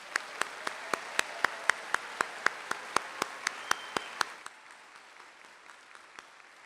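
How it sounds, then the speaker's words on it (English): Steady, evenly spaced handclaps ring out at a college commencement honoring graduates, crisp and close over a light wash of crowd noise, then stop partway through, leaving a quiet hall. "Please join me in a big round of applause for our graduates."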